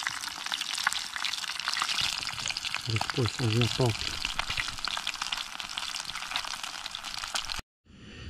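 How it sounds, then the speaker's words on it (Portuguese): Tilapia fries in a pan with a dense, steady sizzle and crackle that runs close throughout, while someone speaks briefly over it. "Fritando só a tilápia aqui, ó, já está quase no ponto."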